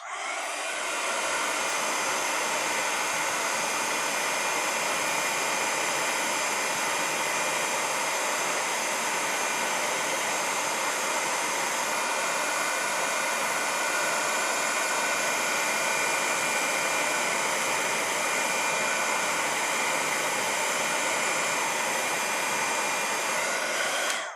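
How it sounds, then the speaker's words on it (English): A craft heat tool melting embossing powder on a mixed-media project, a loud, steady blowing roar like a hair dryer running close and unbroken for the whole stretch, no talk. "let's heat set this and see what we get."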